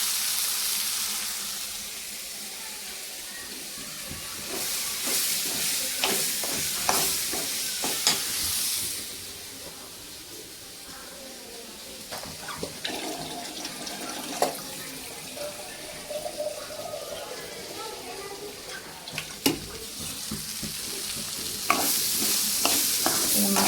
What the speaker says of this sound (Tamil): இப்போ வந்து மிக்ஸ் பண்ணிவிட்டு தண்ணி சேர்த்துக்கலாம்